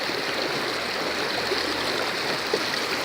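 A river current runs during a rafting trip, making a steady, close rushing wash of water with a constant broadband roar and no breaks.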